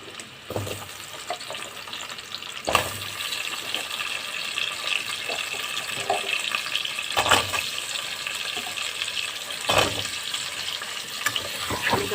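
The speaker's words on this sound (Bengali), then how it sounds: "আলুটাকে এবার ভেজে নেব।" Diced potatoes fry in a pan with chopped onion, a steady close sizzle and crackle running throughout, with a few sharp clinks of a spatula against the pan.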